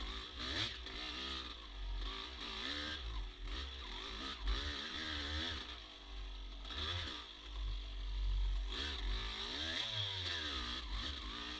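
A dirt motorcycle rides fast, flowing single track at Lakeview OHV riding park, its engine revving and bogging in continuous waves over rumbling wind buffeting, heard from the rider's position.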